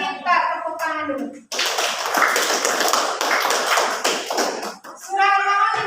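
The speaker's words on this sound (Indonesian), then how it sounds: "Minta tepuk tangan dulu" A classroom of students bursts into sustained applause, a dense burst of many hands clapping close and loud for several seconds, with a teacher's voice speaking before and after.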